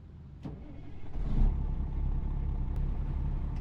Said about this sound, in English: I'm going to turn the engine on